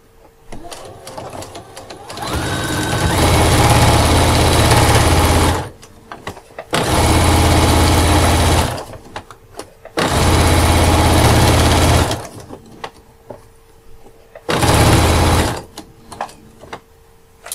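A sewing machine stitches a backpack seam in four sustained, loud runs of steady motor whir and rapid needle chatter, separated by brief pauses filled with handling noise.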